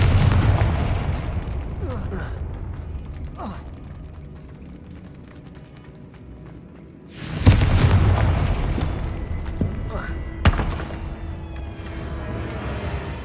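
A loud booming blast from the Confringo curse in Hogwarts Legacy bursts out midway over a low rumbling backdrop, followed by a smaller pop a few seconds later.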